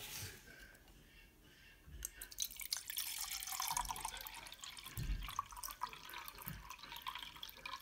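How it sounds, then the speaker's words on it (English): Tap water runs into a measuring cup, filling one cup. A quiet rushing stream starts after about two seconds and continues with light clicks and drips. "So the very first thing that we're going to do is to measure out 1 cup of water."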